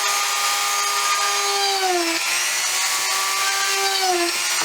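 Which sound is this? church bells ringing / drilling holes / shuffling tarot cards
drilling holes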